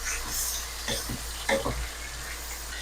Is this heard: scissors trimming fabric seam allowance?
no